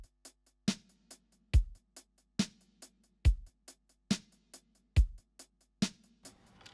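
A programmed reggae drum beat loops at a steady 140 BPM, deep kicks alternating with sharp snappy hits and light ticks between, dry and alone.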